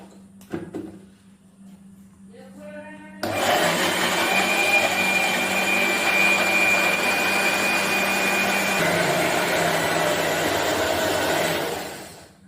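A mixer grinder, lid on, blends a mango ice cream mixture with a loud, steady whirring roar that runs for about eight seconds before winding down, preceded by a few quiet kitchen clatters.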